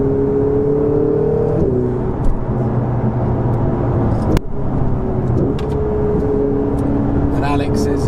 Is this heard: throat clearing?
no